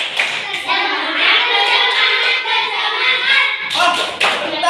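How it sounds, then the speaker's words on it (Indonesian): A class performs a rhythmic clapping chant in a classroom, sharp hand claps in patterned bursts mixed with children's voices chanting along, close and lively. "Tepuk semangat."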